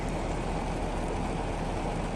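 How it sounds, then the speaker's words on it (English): Heavy rain downpour in a yard after arriving home on a Honda Rebel motorcycle, a dense, even wash of hissing rainfall with no voices, steady and moderately faint throughout. "of course an absolute downpour occurs"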